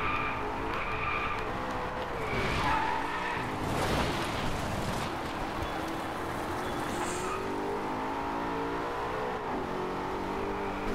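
Race car in the DriveClub video game skids and squeals through corners, its engine droning and shifting pitch continuously at close range with no talking.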